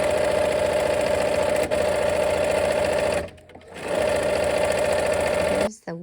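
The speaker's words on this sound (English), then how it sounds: "let's go ahead and sew" A sewing machine stitching fabric pieces for a quilt block, a loud close steady mechanical whir that stops briefly around the middle, resumes, then cuts off near the end.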